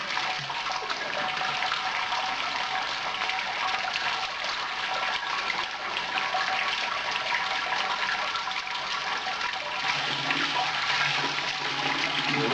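Cold water gushes steadily from a pipe for sparging on a brew day, a loud continuous rushing splash that holds constant throughout with no pauses.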